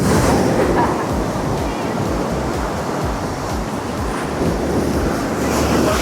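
Ocean waves roll and crash continuously at Pandawa Beach in Bali, a loud, dense wash of surf with wind buffeting close to the microphone and no break in the roar.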